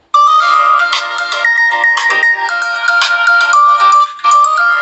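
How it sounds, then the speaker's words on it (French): Ringtone from an Oukitel C21 smartphone plays loud and close, a bright repeating electronic melody of sustained tones with no other sound. "donc il y a une sonnerie Oukitel maintenant."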